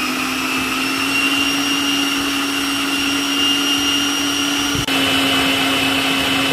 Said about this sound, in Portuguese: E vamos deixar batendo até chegar aqui em cima.